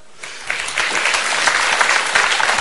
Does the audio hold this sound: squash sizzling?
no